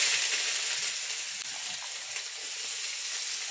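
Chopped onions fry in a pan of hot oil, giving a steady, close, hissing sizzle with soft stirring scrapes throughout.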